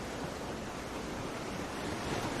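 Ocean waves and surf wash in a steady, continuous broadband roar, with no distinct breaks or separate crashes, and some wind noise mixed in. No voices are heard.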